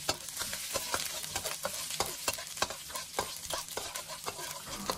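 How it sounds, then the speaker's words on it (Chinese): Minced ginger stir-fried in plenty of hot oil sizzles steadily while a spatula scrapes the pan in quick, regular strokes, close and alone without talk. "锅中加入多一点的食用油，油热之后把姜末倒进来，"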